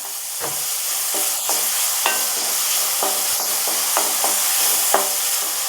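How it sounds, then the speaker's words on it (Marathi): Finely chopped onion sautéing in a pan for a dry cluster bean sabzi, a steady loud sizzle broken by a regular series of spatula scrapes and taps, about one each second, with no talking. "कांदा परतून घ्यायचा चांगला"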